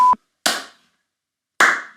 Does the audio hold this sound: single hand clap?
yes